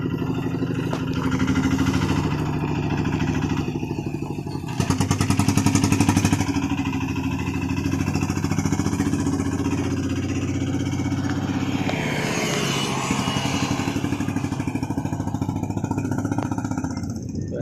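A six-wheel Thai farm vehicle with a Kubota RT140 diesel engine idles close by with a loud, steady mechanical chugging and clatter that rises briefly partway through.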